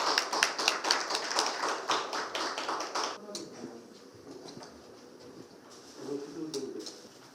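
Audience applause welcoming a professor at a Seoul policy forum, a burst of dense clapping for about three seconds that then fades into quiet room noise with faint movement.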